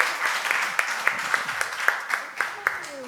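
An audience claps at a live business seminar, a fairly faint, steady applause with distinct individual hand claps in a regular rhythm, and a voice talks briefly over it.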